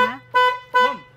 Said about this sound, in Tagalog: meron din siyang busina,